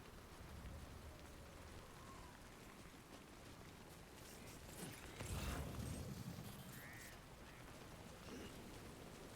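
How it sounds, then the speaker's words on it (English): Soft, steady rain pattering across the ground in the video game Death Stranding, a continuous faint wash of drops with a slightly louder swell partway through and light mechanical creaks beneath. "It's raining."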